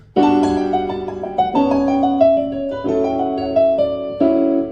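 A sustained, ringing keyboard line moves stepwise through a bebop scale with an added passing note at the start, each note held into the next, played alone and fairly loud.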